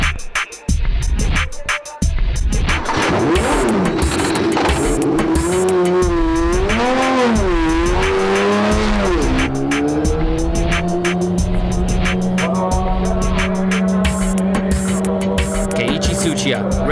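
A race car on brand new soft compound tires laps a circuit, its engine wailing loud and close as it revs up and down through the gears, with tire squeal and a sustained high run toward the end.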